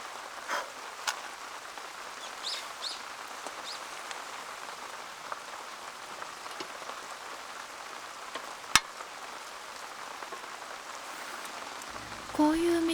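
Rain patters softly and steadily on a surface at a rainy car-camping site, with scattered sharper drops and a short tonal hiss near the end.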